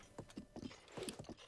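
Horse hooves clip-clop in a Zelda video game, a quick, uneven run of hollow footfalls at a trotting rhythm, fairly quiet and close, with no talking.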